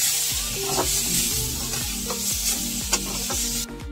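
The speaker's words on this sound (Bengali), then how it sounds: "হালকা করে সব কিছু একটু ফ্রাই মতো করে নিয়েছি।" Pre-fried potatoes and pizza toppings are stirred in a frying pan under a constant loud sizzle, with rhythmic scraping strokes repeating until the sound cuts off abruptly.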